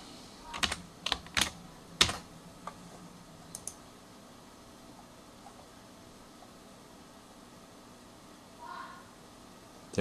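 A computer keyboard being typed on in bursts of clicky keystrokes, a password entered while a Fedora 19 virtual machine boots for the first time, with a few sharp taps early on, then quiet room hum and a faint trailing click.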